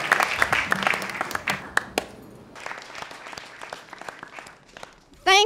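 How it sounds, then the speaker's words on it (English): An audience at a singing competition grand finale claps and cheers for the three winners, with scattered sharp claps and crowd noise under a speaking voice, ending in a sudden loud burst. "give them a loud, loud, loud clap, scream for the three winners of the competition"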